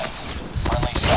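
Rapid bursts of gunfire from a Call of Duty Mobile match, a run of loud, closely spaced shots that thicken toward the end, mixed with game noise and a voice talking over it.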